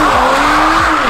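Toyota Supra launch control start on a closed road: loud engine roar holding high revs as the tires squeal continuously, close and intense throughout.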